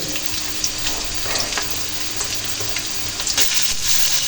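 Chopped onion with ginger and garlic paste fries loudly in oil, giving a steady close hiss with small crackles and occasional stirring scrapes throughout, no speech.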